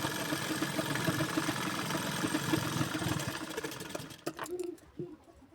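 A sewing machine stitches a blouse with a steady, fast mechanical whir for about four seconds, then stops, leaving a few soft clicks and handling sounds.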